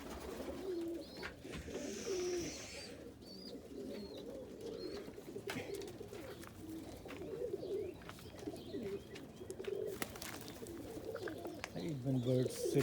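Pigeon cooing from a friendly Indian Fantail agate hen and other fantails, soft repeated coos close by over a steady murmur of bird sounds, with a low background hum throughout.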